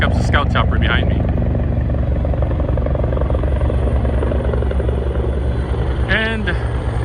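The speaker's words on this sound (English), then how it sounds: "Here comes the scout chopper behind me." A scout helicopter flies overhead with a steady, loud rotor and engine drone that fills the whole clip, while people talk briefly near the start and again near the end.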